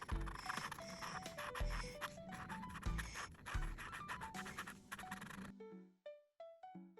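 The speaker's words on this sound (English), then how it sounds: "Coloring the body of Mummy." Crayon rubbing and scratching across paper in a scratch book while coloring a cartoon pig drawing, quick repeated strokes under bright background music that thins out near the end.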